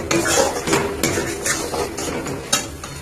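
Chana masala spices being stir-fried in a pan with water added a little at a time, heard as a close, busy run of spatula scrapes and metallic clinks with soft sizzling beneath, no voices.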